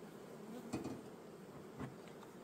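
Honeybees buzz around hive frames in a soft, steady drone, quiet and close, broken by a couple of light knocks.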